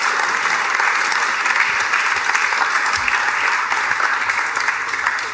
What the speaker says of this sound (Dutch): mag ik een hartelijk applaus voor deze generatie.